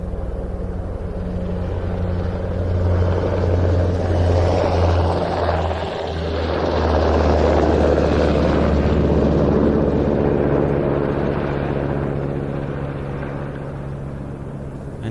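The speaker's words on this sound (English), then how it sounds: "this is technically an HKP-16, that is the Swedish designation for the UH-60M" A Swedish HKP-16, the UH-60M Black Hawk helicopter, departs an air show in Britain, its loud steady rotor and turbine roar swelling and fading slightly across the whole stretch with no talking.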